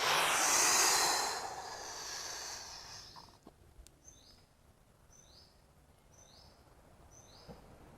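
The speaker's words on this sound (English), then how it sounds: "I exhale fully." A full, forceful exhale during yoga bandha practice rushes out loud and close for about three seconds, then fades to quiet, with faint bird chirps repeating in the background.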